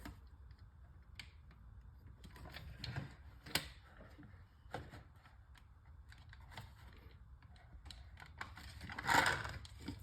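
Darts being loaded into a homemade pump-action musket, giving a string of small clicks, taps and plastic knocks at close range with brief handling rustles and no speech.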